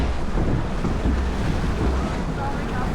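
Rushing water and wind roar continuously around a log flume boat on the Menhir Express ride at Parc Asterix, loud and close with no break.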